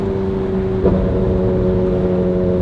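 A Ferrari 458 with a titanium exhaust on overrun: a loud, steady, burbling engine drone with one brief blip near the start.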